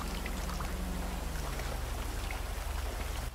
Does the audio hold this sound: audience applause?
no